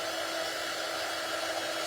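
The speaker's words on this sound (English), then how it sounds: "So let me pull up my dryer." A hair dryer runs in a steady, even hiss, drying white paint on an Easter bunny shelf-sitter craft, with no change in the airflow sound.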